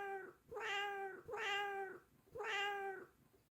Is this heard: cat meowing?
yes